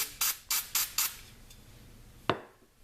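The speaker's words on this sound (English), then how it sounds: "So I'm just going to spray" Four quick bursts of aerosol cleaner spray onto a fiber optic gun sight in a steady rhythm, close up, followed by a pause and one more short spritz near the end.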